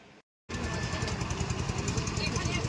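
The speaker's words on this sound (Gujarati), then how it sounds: "આપણી બોટ જઈ રહી છે" After a brief silence, a motorboat engine on a river drones and throbs loud and steady close by, with a rough, pulsing rumble.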